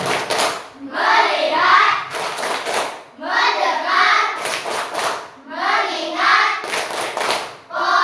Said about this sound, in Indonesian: Sekarang tepuk fokus.